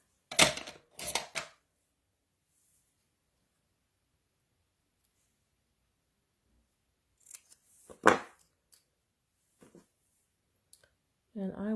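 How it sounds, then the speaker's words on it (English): Scissors snip through paper in a few quick crisp cuts, close and clear, separated by silence, with a voice speaking briefly near the end. "All right, then I'm just going to use my scissors."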